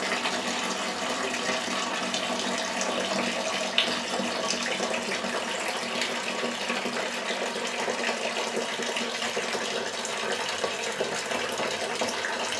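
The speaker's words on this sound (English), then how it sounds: "I did put a false bottom and a bazooka screen in the bottom of my fermenter, so everything is draining really nice." Bourbon mash draining through a false bottom and bazooka screen in a fermenter, a steady, continuous splashing and trickling rush of liquid that holds level throughout with no talk.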